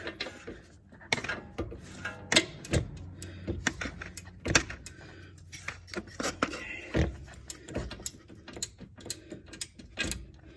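A torque wrench clicks and ratchets in a rapid, uneven series of sharp metallic snaps while tightening a front suspension ball joint bolt on a 2012 Hyundai Tucson, close and alone.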